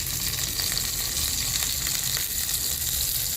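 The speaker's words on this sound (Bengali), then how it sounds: "এখন মাছের মাথাটা ভেজে নিচ্ছি।" A hilsa fish head frying in mustard oil in a small clay kitchen pan, a steady, even crackling sizzle that holds at moderate loudness from start to finish, no voices.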